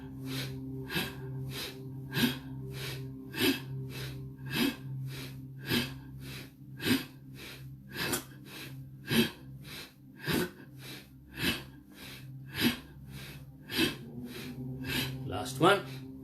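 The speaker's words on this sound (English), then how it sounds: "Inhale and exhale." Rounds of deep breathing during a meditation exercise, a regular series of forceful breaths, roughly one per second, close and fairly quiet.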